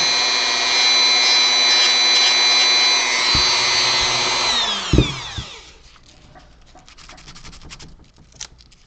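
A power tool runs steadily on a carved wooden model's rear leg, then spins down with a falling whine and a few knocks, leaving quiet rubbing and handling sounds.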